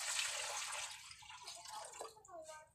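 Running water splashes and trickles as water is fetched, loud at first and then thinning into scattered drips and pours, with a faint voice in the background.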